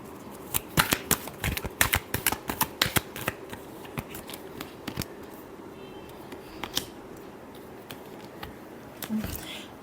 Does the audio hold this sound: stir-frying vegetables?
no